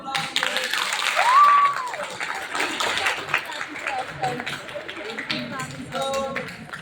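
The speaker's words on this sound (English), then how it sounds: "let's all give yourselves a round of applause here" An audience of college students gives a round of applause at a talk, a dense, steady patter of clapping that rises slightly early on and continues under voices and some chatter.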